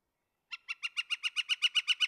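A bird repeats a rapid, even series of a dozen or so bright notes from a treetop in a Chevy Chase yard, like a stuck record. The song is clear and moderately distant, with no talking over it.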